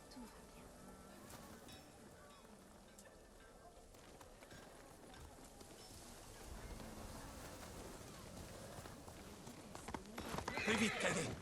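A horse in the samurai video game Ghost of Tsushima, with hooves clip-clopping under ambient game sound. The noise builds steadily and ends in a louder neigh or burst of movement. A voice speaks over it.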